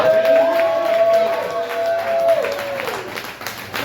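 A comedy show audience applauds and cheers, giving a dense, steady wash of clapping with some whoops. A sustained musical tone runs underneath.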